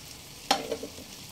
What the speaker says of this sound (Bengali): এই পর্যায়ে দিয়ে দেব আগে থেকে ভেজে উঠিয়ে রাখা সমস্ত আলুগুলো দিয়ে দিলাম